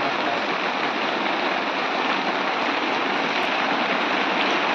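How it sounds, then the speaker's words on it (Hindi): Heavy rain pours down outside, a dense, even hiss that stays loud and steady the whole time with no voices. "ये देख सकते हैं आप बारिश बाहर कितनी तेज हो रही है"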